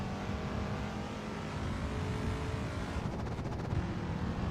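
A race car at Canadian Tire Motorsports Park holds a steady, droning engine note near its shift point, with a fluttering pulse in the revs toward the end.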